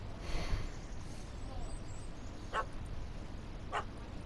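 A dog barks in The Witcher 3: Hearts of Stone. Two short, sharp barks come a second apart, fairly distant and faint over steady in-game ambience.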